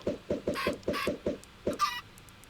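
A short run of repeated Minecraft chicken clucks in quick rhythm, broken by a couple of higher squawks, close and clear with no talking.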